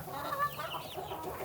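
Chickens on a small farm cluck softly and steadily for a moment, a close, murmuring burble of hen calls with no talking over it.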